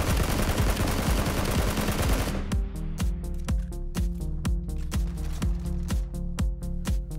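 A SCAR-L assault rifle spraying on full auto in PUBG, fitted with a foregrip: a dense, loud stream of shots, then a steady, evenly spaced rhythm of sharp, close cracks with ringing tails.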